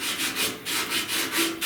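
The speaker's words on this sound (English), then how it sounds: "I'm not sanding hard here at all." Light hand sanding on a dented truck cab corner during body work, feather edging the repair: a steady soft rubbing rasp in gentle back-and-forth strokes, close and continuous with no voices.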